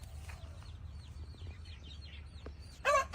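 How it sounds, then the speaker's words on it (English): Roosters and chickens cluck nearby in Thailand, a run of short repeated clucks at moderate distance over a low background hum, ending with one louder, closer squawk. "we have roosters and chickens right next to this"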